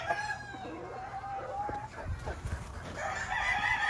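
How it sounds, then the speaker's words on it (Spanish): A game rooster from a gamefarm, an older white hatch bird, crows amid a noisy yard with other fowl clucking and calling, the crow fairly near and standing out over steady background chatter. "Muy buen gallo."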